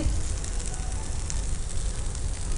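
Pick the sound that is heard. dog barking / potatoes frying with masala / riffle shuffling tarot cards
potatoes frying with masala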